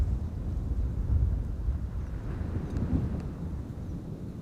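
A KLM airliner departs runway 36L at Amsterdam Schiphol, and its distant, steady low engine rumble swells and fades slightly over a few seconds. Wind buffets the microphone, and nobody speaks.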